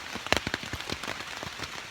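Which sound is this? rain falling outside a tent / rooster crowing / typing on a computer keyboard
rain falling outside a tent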